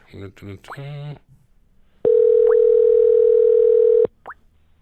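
Steady telephone dial tone sounds for about two seconds, loud and close, cutting off sharply, after someone speaks briefly on a call-in show line.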